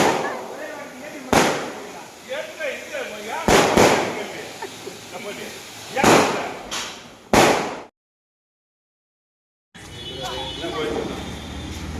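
A Diwali flowerpot firework (pushvanam) going off, a steady fizzing roar broken by several sharp bangs from other crackers, close and loud, with people talking nearby and a brief silent gap.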